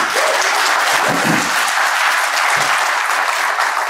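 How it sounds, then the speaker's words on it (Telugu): An audience at a conference applauds steadily, a dense, loud wash of clapping that holds evenly throughout with no voices over it. "మీరు అట్లా చప్పట్లు కొడితే ఒక 3 ఏళ్లలో వచ్చేస్తాము"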